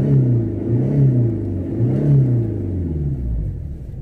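Tata Vista car running with its exhaust silencer removed, giving a deep booming, rumbling drone with repeated revving surges, heard close up from inside the car.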